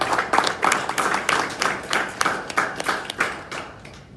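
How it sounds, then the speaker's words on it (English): An audience applauds at an Australia Day gathering, a fairly quiet round of scattered hand clapping with distinct individual claps pulsing unevenly and continuing throughout. "I would like everybody to give another round of applause for him."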